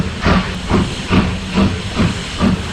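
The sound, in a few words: Hudson Clark steam locomotive hissing steam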